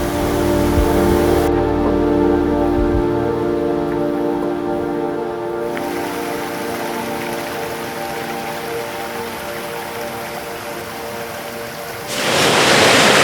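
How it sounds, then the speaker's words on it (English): Steady broadband rush of flowing water by a mill in Borrowdale, Lake District, in the rain, loud and continuous, with a low rumble and wind buffeting the microphone; the noise swells briefly near the end. "Water flow."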